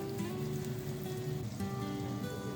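Sliced onions fry over high flame in oil in a pressure cooker while being stirred constantly, a dense close sizzle like rain with a faint tonal hum underneath and no voices.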